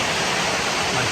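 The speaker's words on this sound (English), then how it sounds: "Bit of a waterfall stop." A waterfall on the Mt Te Aroha track, a steady broadband rush of falling water that fills the short stretch loud and close, with no voices over it.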